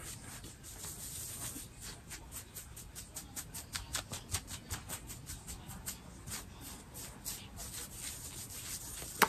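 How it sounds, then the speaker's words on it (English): Close, quiet ASMR scratching, a steady run of dry rubbing and scraping strokes in a loose rhythm that carries on without a break and with no talking. "I'll do some scratching."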